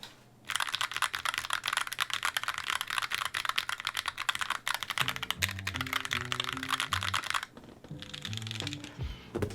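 Fingers type on a Tofu65 mechanical keyboard fitted with ABS keycaps, giving a close, rapid, continuous clatter of keystrokes with a short pause near the end and a faint low tonal hum underneath in places.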